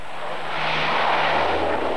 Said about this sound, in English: The aid planes can be heard overhead as they bury the dead.